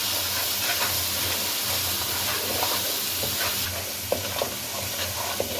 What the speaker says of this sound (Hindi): अब मसाले को इसमें भून लें।